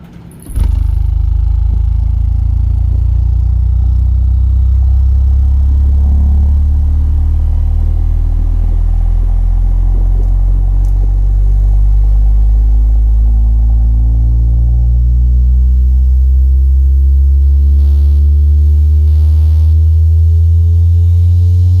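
A PAudio 1500EL speaker plays a loud, steady test pattern of stacked low tones with sweeping harmonics that rise over time, running continuously without speech.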